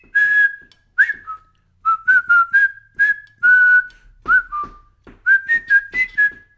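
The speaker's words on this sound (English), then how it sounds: "Do you remember that scene when they were all whistling a tune?" A group whistles a tune in a movie scene: a clear run of sustained and sliding whistled notes in short phrases with brief gaps between them, loud and close, with no talking.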